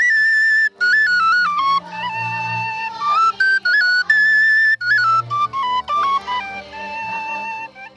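Bright, shrill shepherd's pipes play a lively folk melody in quick runs of notes over a low droning tone, loud and close.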